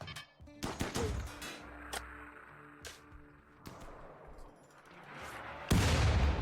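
Mortar fire and gunshots during a siege in the Rimworld game, a series of sharp separate cracks and thuds at irregular intervals, followed by a louder, sustained blast of noise near the end.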